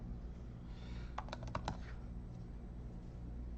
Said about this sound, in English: I hate the sound of typing when you're on the receiving end of it as well